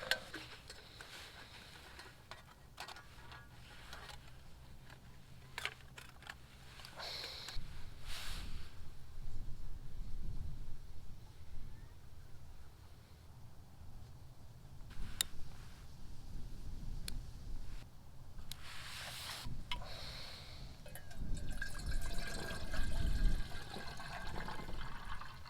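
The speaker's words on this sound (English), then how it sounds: "So we'll get the old Eagle kettle fired up," An Eagle camping kettle sits over a stove outdoors on a Norfolk riverside hike, heating water toward the boil with a steady low rumble and hiss, broken by scattered ticks, clinks and handling knocks, and it grows louder near the end.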